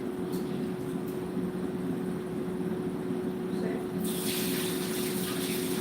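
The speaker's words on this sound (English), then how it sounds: "I have to rinse that rice." Tap water runs steadily into a kitchen sink while rice is rinsed, a constant close splashing flow that brightens and gushes harder near the end.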